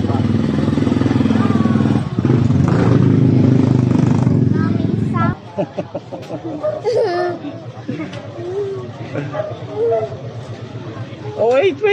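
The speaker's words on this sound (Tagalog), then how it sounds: "Oh, may tricycle." A motorcycle-with-sidecar tricycle at a public market in Biñan, its engine loud and close for about five seconds, then gone, leaving market chatter and children's voices.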